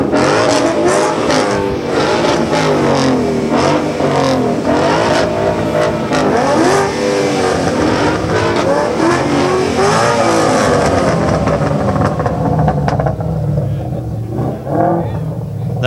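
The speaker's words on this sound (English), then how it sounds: "Some more revving engines at Caffeine and Octane." Hot rod engines rev loudly and repeatedly at a Caffeine and Octane car show, their throttle blips stacking over a busy crowd with voices talking throughout.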